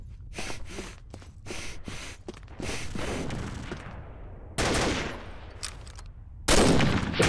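Gunfire in the Combat Arms shooter game: rapid bursts of shots and short volleys, some sharp and loud, others fainter, separated by quiet gaps with faint breathing.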